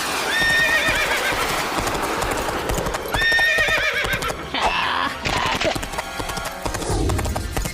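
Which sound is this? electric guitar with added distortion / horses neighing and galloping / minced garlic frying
horses neighing and galloping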